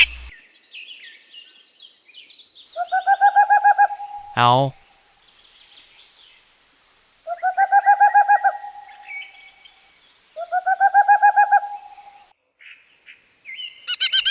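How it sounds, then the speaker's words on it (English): Series of owl hoots, loud and close, repeating in steady, rhythmic bursts with short pauses between them, with other bird calls and chirps in between and no talk over them. "Owl."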